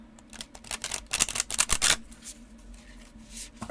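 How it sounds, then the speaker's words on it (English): Rapid crisp riffling of playing cards, several quick bursts of fluttering clicks close up, then quieter rustling as the deck settles. "But you can always shuffle them a different way."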